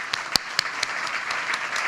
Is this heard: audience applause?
yes